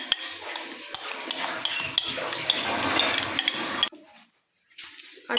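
Russian fruit salad being mixed with sauce in a bowl, with a spoon scraping and clinking steadily against the dish for several seconds before the sound drops out briefly.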